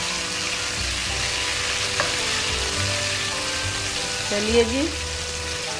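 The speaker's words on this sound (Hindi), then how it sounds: "30 सेकंड इसको हम लोग भूनेंगे ताकि इसकी थोड़ी सी खुशबू निकल जाए" Garlic ginger paste fries in hot oil for beef paya, a steady close sizzle throughout with a brief stir and a short spoken remark over it.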